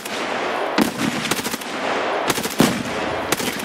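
Rapid bursts of automatic gunfire from a scav fight in a shooter video game, loud and close, with sharp cracks repeating over a steady roar of battle noise.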